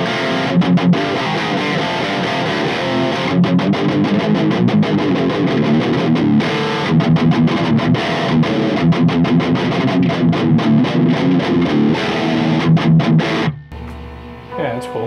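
A Schecter Sun Valley Super Shredder FR electric guitar plays loud, heavily driven riffs with fast picking and whammy-bar bends, continuous for most of the time before cutting off abruptly near the end.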